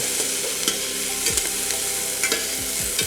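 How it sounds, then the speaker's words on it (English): Chicken frying in a pan for chicken pasta, a loud, constant close-up sizzle with small pops and spatters throughout. "I'm going to fry these up pretty good."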